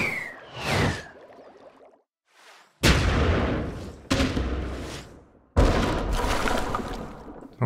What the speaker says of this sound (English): Don't keep shooting at us.